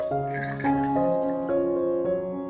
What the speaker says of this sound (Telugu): ఇప్పుడు ఇందులో మనము వాటర్ పోసుకొని ఉడకబెట్టుకుందామండి